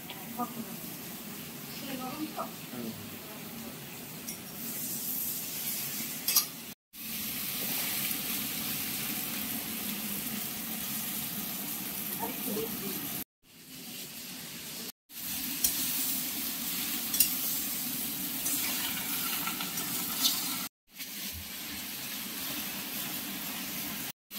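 Bottle gourd greens frying in a wok, a continuous close sizzle with occasional stirring, broken by a few brief cuts; a voice talks over parts of it.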